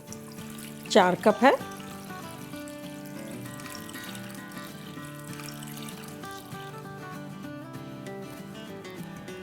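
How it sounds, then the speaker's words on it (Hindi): Water pours into a pan holding mutton chops in a short, gurgling splash lasting about half a second, then someone talks over a quiet kitchen. "अब हम इसमें डाल देते हैं कुछ पानी"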